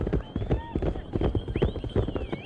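Horses gallop in a race in China, with rapid, irregular pounding hooves up close, an occasional whinny, and crowd or rider voices mixed over the running.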